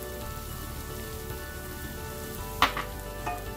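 Breadcrumbs and cilantro sizzling in a pan over low heat give a steady, rain-like crackle throughout, with a single sharp utensil clink near the end.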